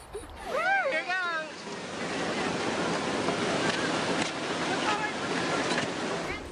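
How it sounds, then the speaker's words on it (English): A Class 4 waterfall at Ti'lomikh Falls, near Gold Hill, sends out a steady, loud rush of pouring water. A voice speaks briefly near the start, then the broad roar carries on alone. "You hear the sound of the falls."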